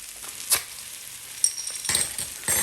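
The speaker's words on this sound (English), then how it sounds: "Now this is the fun part where we deglaze with the Guinness" Guinness hits a hot pot of cooked vegetables and garlic for an Irish stew, setting off sharp bursts of sizzling and hissing that flare up, fade briefly, then surge again, close and fairly loud.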